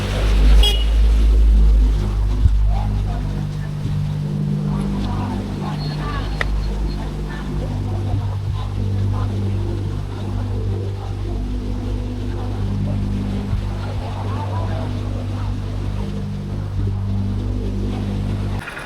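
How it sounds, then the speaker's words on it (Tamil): Water rushes out through an open shutter of a dam at Mettur, a steady, loud, low roar that lasts throughout, with someone talking over it. "தண்ணி எவ்வளோ ஸ்பீடாக வெளியே போகுது பாருங்களேன்"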